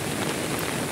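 Heavy rain and floodwater pour steadily along a waterlogged residential street in Itahari after about eight hours of continuous rain, a dense, even wash of noise that holds at the same level throughout without pause.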